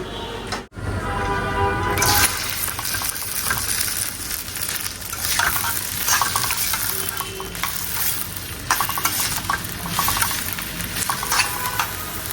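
Sliced okra fries in a pan at home, sizzling steadily with scraping and stirring sounds, after a brief bump and silence at the start. The cooking noise is close and fairly loud, with no voices over it.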